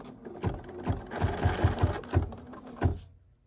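Bernina embroidery machine stitching a programmed design, a steady close mechanical thumping of needle strokes at a quick even rhythm over motor whir, fading out at the end.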